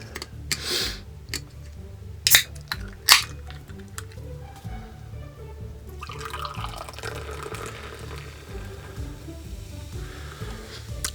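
Vanilla coffee-flavored Coca-Cola soda pours into a glass, a steady fizzing, bubbling stream running for several seconds, with a couple of sharp clinks near the start.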